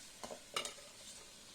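Soft sizzling and a few quick stirring scrapes as beans and carrots are sautéed in a pan, faint and brief.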